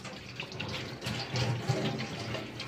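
Tap water runs into a sink as a toddler washes dishes, a close, continuous splashing stream with slight fluctuations throughout.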